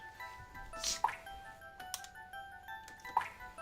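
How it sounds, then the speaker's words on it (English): Water drips in the Sega CD game Snatcher, a few sparse, faint plinks spaced about two seconds apart over a quiet electronic hum. "I can hear water."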